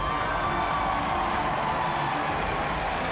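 A large crowd cheers and applauds at an E3 Bethesda presentation, a steady dense roar of clapping and whoops filling the hall at a constant loud level throughout.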